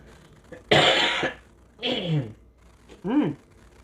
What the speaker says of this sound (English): The rain comes, the humidity builds up, and I start coughing.